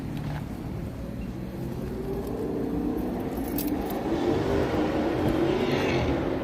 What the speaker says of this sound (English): throaty cars out tonight.